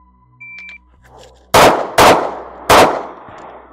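Three loud, sharp gunshots from a SIG P320 pistol firing brass-cased ammunition, the second following quickly after the first and the third after a short pause, preceded by a brief electronic beep and quiet handling noise.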